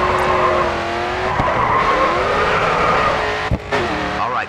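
Race car at speed in the GRID 2 video game on a Riverside, Chicago circuit, a steady loud engine drone with tyre squeal and a brief skid or impact near the end, no talk.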